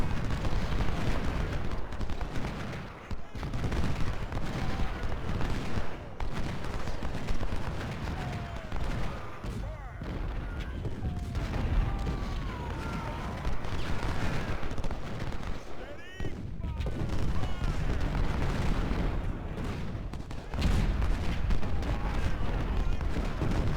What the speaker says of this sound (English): my guns are just blasting away at their gun.